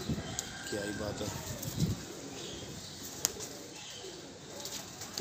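Pigeons at a loft in Faisalabad, soft low cooing with a burst of flapping wings, a few sharp clicks scattered through, faint and close, with someone talking over them.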